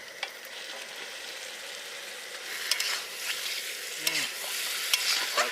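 Potatoes fry in spice masala over a cooking fire outdoors in a cold forest at night, giving a steady, moderate hiss of frying with a few light clicks and stirring scrapes, no speech.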